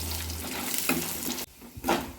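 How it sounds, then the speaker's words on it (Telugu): Peanuts and a small marble-sized piece of tamarind frying in a pan for roadside-style peanut chutney, stirred so they don't burn; steady close sizzle with scraping stir noises and a brief lull near the end. "పల్లీలు మాడిపోకుండా తిప్పుతూ వాటిని మంచిగా ఫ్రై చేసుకోవాలి."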